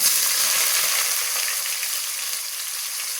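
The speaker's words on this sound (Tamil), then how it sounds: "சேர்த்த இன்க்ரீடியன்ஸ்லாம் வந்து நல்லா ஃப்ரை ஆகுறாங்க" Onions and spices fry for a vegetable biryani, a steady bright hiss and crackle of hot oil, close and continuous throughout.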